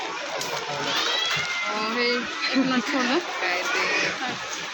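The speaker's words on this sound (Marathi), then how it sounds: "मंडळी अजून खूप गर्दी आहे" A busy crowd of shoppers inside a DMart store, with a steady murmur of many voices, children calling out and someone talking close by over the chatter.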